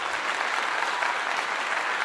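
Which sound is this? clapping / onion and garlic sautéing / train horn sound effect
clapping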